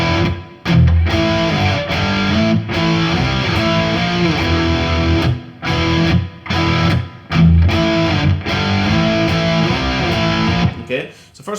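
Heavily distorted electric guitar chugs through a riff, with sliding power chords and short palm-muted gaps between phrases, loud and close with no talking.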